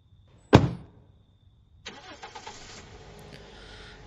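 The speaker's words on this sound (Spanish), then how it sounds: "tendré coche, ¿no? Conducir." A sharp thud opens the scene in a horror video game, then after a short pause a car engine cranks and catches, settling into a steady mid-pitched running rumble.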